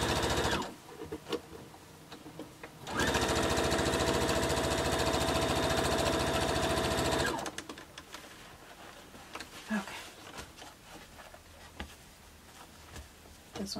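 A sewing machine stitches together a T-shirt quilt, with a few brief bursts early, then a long steady whirring run lasting several seconds before stopping, followed by quieter handling noises of fabric and the machine.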